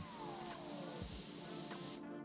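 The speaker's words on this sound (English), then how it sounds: "I don't even have to stop spraying to switch my attachments" Steady broadband hiss of a pressure washer spraying without a break in PowerWash Simulator 2, faint and continuous, with a soft tonal sweep and brief clicks over it.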